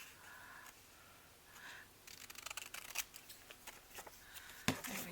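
Scissors snipping paper to trim bookpage pockets, heard close and fairly quiet as a few soft cuts followed by a cluster of sharp, crisp snips and some light paper rustling, with no talking.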